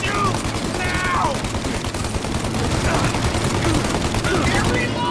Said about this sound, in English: Shoot out your gun when there's a break in the fire! Then reload! Shoot!